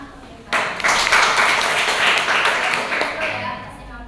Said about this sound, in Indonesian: Ya, tepuk tangan untuk mereka.